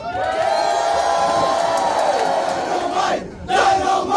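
A large crowd at a Fallout New Vegas fan celebration cosplay contest cheers and whoops loudly and continuously, with a brief dip before the roar swells again near the end.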